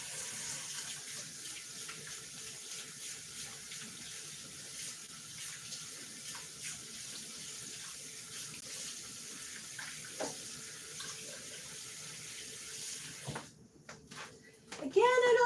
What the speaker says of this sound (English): Hands are getting icky again. Let me wash them real quick before I touch something else.